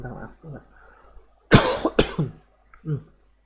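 Two sharp, loud coughs burst out in quick succession between stretches of quiet talking, close to the listener.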